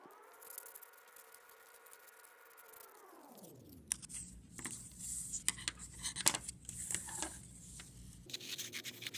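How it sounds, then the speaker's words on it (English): Scissors snip through paper while cutting out a paper spoon shape, with a series of quiet, close crisp cuts and rustles. A low hum fades out during the first four seconds. "once you have it traced, you're going to go ahead and cut it out"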